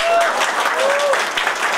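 A business presentation audience claps in a dense, loud burst throughout, with a voice cutting in over the applause.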